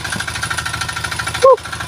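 Two small engine-driven pumps spraying chemicals on mango trees to make them flower, chugging in a rapid, steady rhythmic pulse close by, with a brief louder burst near the end.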